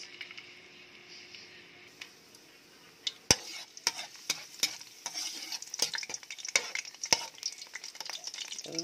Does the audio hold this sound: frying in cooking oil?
yes